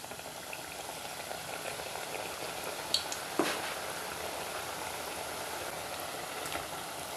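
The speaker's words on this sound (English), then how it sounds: "So once the oil is hot enough, you put the chin chin dough." Carrot chin chin dough fries in hot oil with a faint, steady bubbling sizzle, broken by a couple of soft splats and pops partway through.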